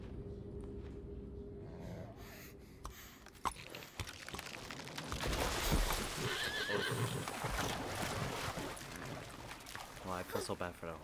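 A horse whinnies and snorts amid clattering hoofbeats and sound effects in the video game Assassin's Creed Valhalla, with a voice talking over parts of it.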